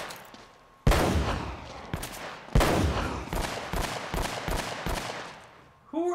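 Gunfire in Uncharted 1 combat: a sharp opening burst, then a string of rapid, loud shots in irregular rhythm with ringing echoes, mostly close, with a faint voice briefly heard beneath the shooting.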